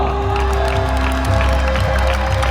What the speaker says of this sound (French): Mesdames, messieurs, faites-leur un tonnerre d'applaudissements